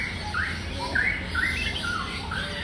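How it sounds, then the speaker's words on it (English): Several songbirds and lorikeets squawk and chirp in short bursts over a steady background hum, the calls scattered and moderately close, at Mandai Wildlife Reserve in Singapore. "This area houses songbirds renowned for their melody."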